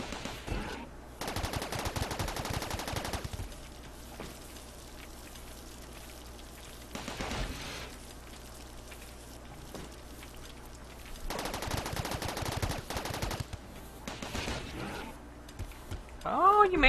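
Gunfire aimed at a turret in the video game RimWorld comes in intermittent rapid bursts separated by quieter gaps, a crackling, fairly faint rattle over a low steady background.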